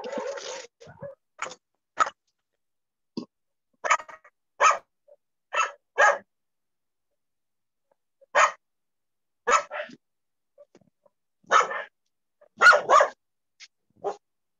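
An excited pet dog barks in short, sharp bursts, sometimes alone and sometimes in quick doubles or triples, with quiet pauses between them. The barking is close and loud.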